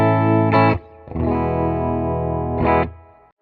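Sustained electric guitar chords ring out through an amp, a few strummed notes held long with light shimmer, without any talking.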